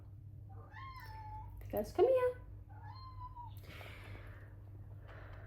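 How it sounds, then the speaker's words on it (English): A cat meows a few times, short rising calls close by, while a person speaks briefly over a steady low hum. "That's my cat."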